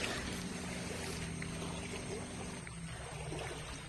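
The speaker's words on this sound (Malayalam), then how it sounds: "ഭയങ്കര മഴയാണ്" Heavy monsoon rain and floodwater flowing over a submerged roadside, a dense continuous rushing wash with a low rumble that eases slightly near the end, no one talking.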